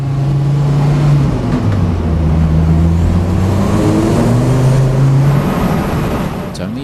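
An old turbocharged four-cylinder Volvo sedan racing hard down a straight, its loud, steady engine drone climbing in pitch, dropping at gear changes and rising again, heard continuously from close by.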